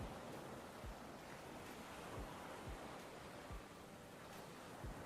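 Beach waves wash in a steady, broad hiss of surf, with soft low thumps of breaking water every second or so and no voices.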